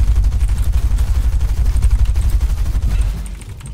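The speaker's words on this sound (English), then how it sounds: "I'm still getting shot at." Rapid bursts of automatic gunfire aimed at the player in a shooter video game, loud, close and dense, cracking repeatedly before easing off near the end.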